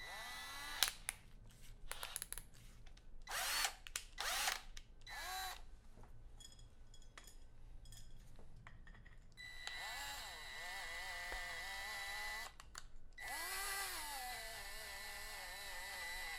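Power drill driving screws into the door of a Sintratec kit, several short whirring bursts starting and stopping, then longer sustained runs with rising and falling pitch, close and fairly loud with no talking.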